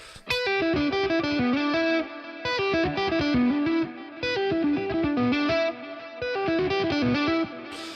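An electric guitar plays a rapid repeating riff of clear, ringing notes, each tail smeared by echoing repeats; loud and close, with no voices.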